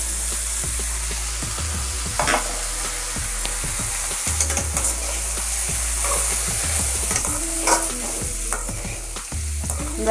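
Onion and vegetables stir-fried in a pan for coconut-mango pea sundal, with steady close sizzling and repeated scraping, clattering strokes of a spoon throughout, no talking.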